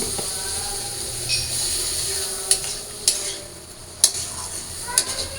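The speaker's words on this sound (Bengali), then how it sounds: "এইখানে হলুদ আর মরিচের গুঁড়া হ্যাঁ দিয়ে আর একটু একটু জল দিই মশলাটা একটু কষানোর জন্য" Turmeric and chili masala sizzles softly in a pan as a little water goes in, with a steady broad hiss and a few sharp scrapes and clinks of a utensil against the metal.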